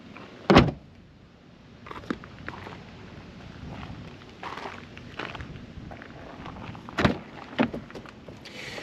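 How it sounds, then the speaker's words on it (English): Trunk lid of a 2021 Audi A4 40 Premium lowered by hand and shut, a couple of close thumps and latch clunks over a quiet interior background, no talking. "To close the trunk, they give you one handle on each side, so you just grab one of those"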